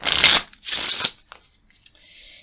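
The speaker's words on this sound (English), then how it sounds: "I'll just go ahead and shuffle for them" Two quick riffles of a card deck being shuffled up close, followed by softer cards being squared and tapped together.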